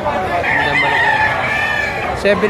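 Roosters crow and hens cluck amid a busy poultry auction where gamefowl stags are being sold, a drawn-out crow carrying over a crowded, noisy background.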